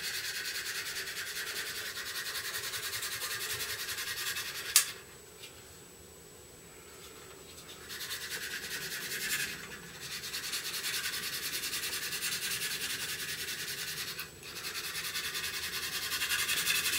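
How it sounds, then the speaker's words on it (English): Steady hand sanding rubs around a join with 150 grit micro mesh, a continuous close scratchy hiss broken by a couple of short pauses; no voices. "Just running around the join now with the micro mesh."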